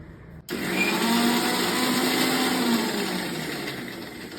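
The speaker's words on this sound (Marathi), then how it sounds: "हिरवी मिरची आलं आणि तीन चार कढीपत्त्याची पाणी आणि खूप सारी कोथिंबीर त्याचं आपण वाटण करून घेऊया मिक्सरमध्ये" Kitchen mixer grinder blending green chilli, ginger, curry leaves, coriander and water into a paste, switching on abruptly and then whirring steadily and loudly for several seconds.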